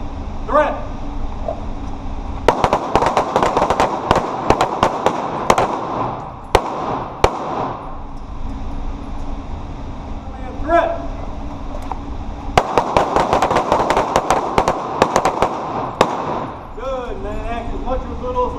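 Sharp, loud pistol shots from a Taurus G2C crack out at an indoor defensive shooting range in Nashville, fired in rapid clustered strings with pauses between volleys, while an instructor's voice is heard in the gaps.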